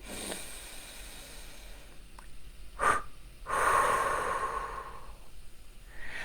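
A slow, deep breath drawn in through the nose, then released as an audible exhale during a calming breathing exercise. Each breath is close and soft, with a brief sharper intake before a longer airy outflow.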